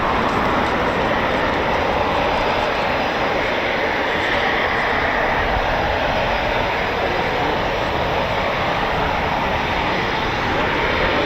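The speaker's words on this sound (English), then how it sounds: "You can hear the wonderful Rolls-Royce EJ200 engines spooling there, starting up." Rolls-Royce EJ200 jet engines on Eurofighter Typhoon FGR4 aircraft spool up and start at RAF Coningsby, a loud, continuous broadband roar and whine that holds steady throughout, with no speech.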